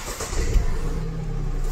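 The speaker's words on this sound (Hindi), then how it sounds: "ये आपकी गाड़ी स्टार्ट हो गई। बस ये कि वो है कि 3 सिलेंडर इंजन है।" A Tata Altroz 1.2-litre three-cylinder petrol engine cranks and fires, then settles into a steady low idle hum, close and fairly loud, with no talking.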